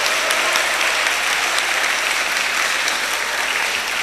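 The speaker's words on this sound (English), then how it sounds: "Let's clap for Bryson." A crowd at a national public speaking competition semi-final claps for a contestant, loud, dense applause that holds at a steady level from start to finish.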